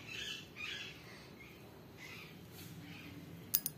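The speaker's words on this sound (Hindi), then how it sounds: "चिड़ियों की चहचहाहट।" Birds chirp and squawk outside a house, faint distant calls over quiet ambience, ending with two sharper, closer chirps.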